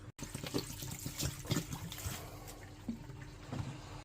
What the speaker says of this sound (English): We're gonna put cold water.